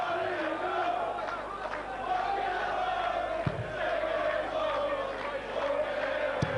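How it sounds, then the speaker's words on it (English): A darts arena crowd at Frimley Green during the 2005 World Championship makes continuous roaring noise, with chanting and cheering rising and falling. A commentator's voice can be heard over the top. "John Park, with all the noise out in the arena at the moment."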